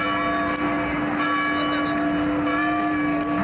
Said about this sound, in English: Oh, there's the bells.